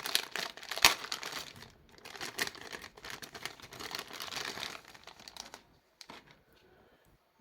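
Packaging of a Logitech Brio 4K Stream Edition webcam is opened to pull out a long, thick USB cable, giving close crinkling and rustling bursts with quieter pauses in between.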